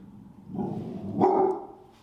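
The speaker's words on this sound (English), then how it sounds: "this is nervous barking" A territorial Border Collie gives a couple of muffled, tense, nervous barks close by, with no talking.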